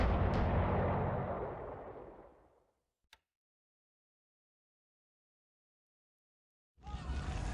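A torpedo strikes the battleship Idaho in a naval video game, a heavy rumbling blast that fades out over a few seconds, followed by a brief click, silence, then another rumbling burst.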